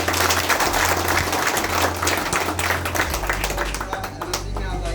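A seated crowd at a network marketing gathering claps loudly and continuously, dense applause filling the room for several seconds as a low hum sits underneath.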